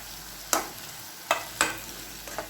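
Tomatoes frying with onions in a pan for a bitter gourd dish, a faint steady sizzle broken by a few sharp stirring scrapes, close by and without talk.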